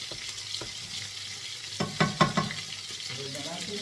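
Garlic sautéing in olive oil, a steady moderate sizzle close by, with a short cluster of spatula scrapes and knocks against the pan toward the end.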